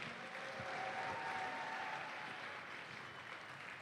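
A large indoor crowd claps loudly and steadily for the hosts at a FIRST robotics district event at Troy Athens High School, a dense, sustained wash of applause throughout.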